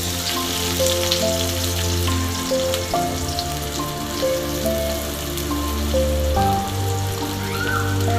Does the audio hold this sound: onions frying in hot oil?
yes